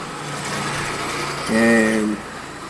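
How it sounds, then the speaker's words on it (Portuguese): A motorcycle creeps slowly toward the listener. A low engine drone swells in, and a brief, louder tonal whine rises over it near the end before fading. "tá vindo uma moto ali, devagarzinho"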